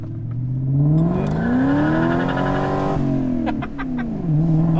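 A BMW 540i with a stock engine and nearly full exhaust revs in second gear as the driver plays with the throttle, a loud, close engine note rising and falling through several sustained pulls.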